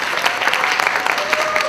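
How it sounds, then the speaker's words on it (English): An audience at a convention wig contest applauds for the contestants, a dense burst of clapping from a crowd that carries on steadily for under two seconds. "Let's have a round of applause for our contestants."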